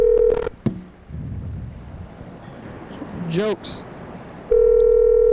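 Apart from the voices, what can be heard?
telephone call being dialed and connecting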